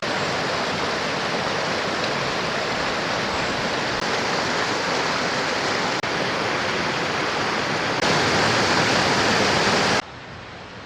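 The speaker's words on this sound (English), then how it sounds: "You can hear the stream to our left." Forest stream with waterfall cascades beside a woodland hiking trail in Grafton, Maine, a steady, loud broadband rush of falling and flowing water close by, continuous throughout and briefly dropping in level at the very end.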